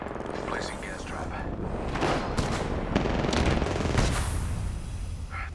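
Rapid automatic gunfire bursts from the battle royale shooter Apex Legends, loud and dense across the clip, overlapping with other game effects and a voice speaking.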